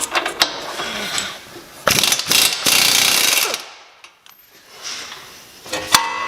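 An air impact gun pulls apart a car steering knuckle during engine removal, firing loud, close bursts of rattling hammering with short pauses and metallic clanks between them.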